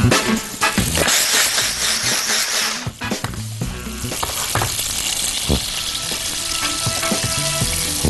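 Onions sizzling loudly in oil and butter in a frying pan, a dense continuous crackle with occasional stirring scrapes, close and without talk.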